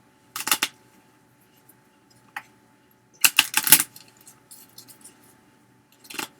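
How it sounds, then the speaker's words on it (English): Playing cards for a wrestling dice trading card game shuffled in a few short riffling bursts, close and crisp, with quiet gaps between them and no talking. "The other cards, shuffle back in and draw."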